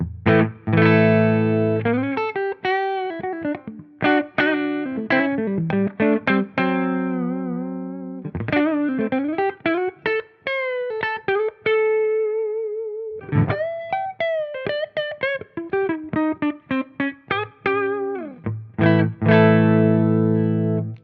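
An overdriven electric guitar on the neck pickup plays a series of distorted licks and sustained notes with bends, alone and up close, pausing between phrases.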